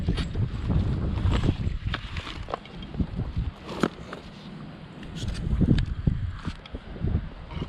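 Wind gusting outdoors in a workshop yard, rumbling across the microphone in uneven surges with a few sharp knocks and clatters, fairly faint.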